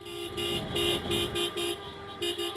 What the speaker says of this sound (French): Klaxons, cris de joie, les joueurs ne se sont pas privés de satisfaction.